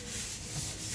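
Light scuffing of a surface with sandpaper, a steady soft broadband rub held for under a second at low level with no talk, just enough to key the finish for paint on a solar still project.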